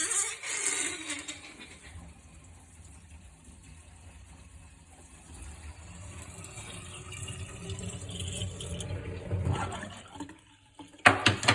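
Water runs into a double bowl sink during a leak test after a clogged tailpiece was cleared, a low steady rush that slowly builds and swells before cutting off near the end.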